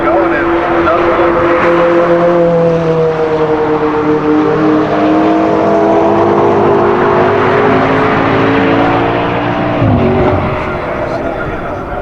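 Race cars at the Drive Festival racetrack, engines roaring loudly and continuously as they pass close by, with rising and falling engine tones and a sharp pitch drop around the tenth second as one car goes past.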